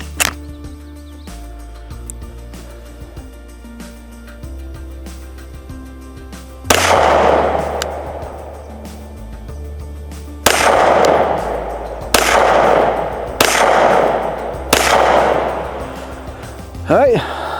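A handgun with a red dot optic is fired at a bullseye target, giving five loud, sharp reports at uneven intervals, each ringing briefly over a quiet outdoor background.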